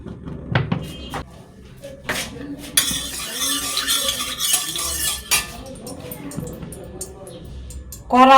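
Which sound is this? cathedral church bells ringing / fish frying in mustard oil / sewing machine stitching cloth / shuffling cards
fish frying in mustard oil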